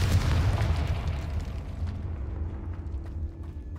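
A Confringo blasting curse detonates in Hogwarts Legacy, a loud booming explosion with a heavy low rumble that fades into a lingering crackling tail.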